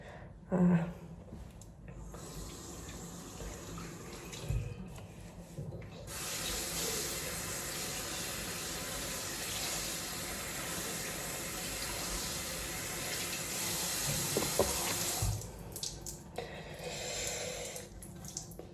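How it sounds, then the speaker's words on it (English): Tap water running steadily into a sink while hair is washed, a continuous close hiss that grows fuller midway and then cuts back, with a few faint bumps and no talk. "So let's just start first by washing the hair because it has mousse."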